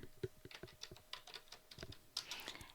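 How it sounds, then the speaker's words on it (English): Quick, quiet keystrokes on a computer keyboard tap in an irregular run, ending in a slightly louder burst of typing. "So I'm going to go to my images and type in Mickey."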